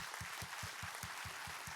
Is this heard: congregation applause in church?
yes